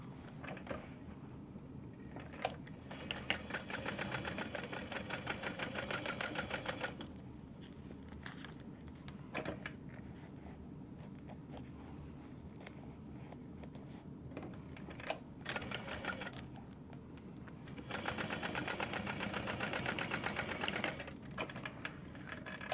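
A sewing machine top stitching a fabric tote bag, bursts of fast rhythmic mechanical stitching in several runs separated by short pauses, close and moderately quiet, no voices.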